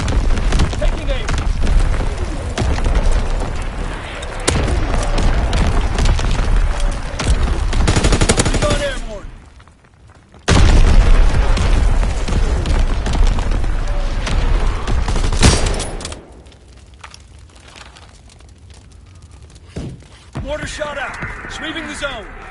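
Artillery strike explosions and rapid gunfire in a PS4 war shooter game, heavy booming blasts and bursts of shots in loud clusters, with a short lull and game voices under the action.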